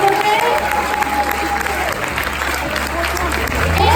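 A crowd applauding a winning chef at a culinary award announcement, a loud dense wash of clapping that runs the whole time, with a voice and crowd murmur audible within it.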